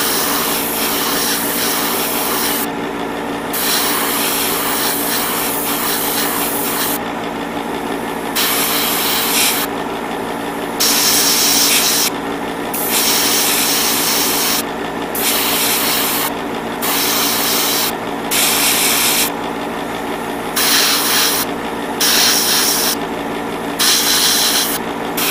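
An airbrush sprays paint to pre-shade parts of a 1/144 HG Sinanju Stein Gundam model, a loud steady hiss broken into repeated bursts as the trigger is pressed and released, with no talking.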